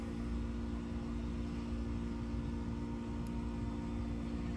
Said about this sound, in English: Excuse the noise in the back. Construction being done.